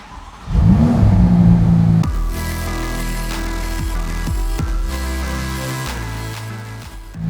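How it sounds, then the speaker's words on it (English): A Ferrari F8 Tributo V8 engine roars loudly alone, revving hard in rising and falling surges that hold a sustained, throaty growl. "That sound of the V8, that really sets the tone"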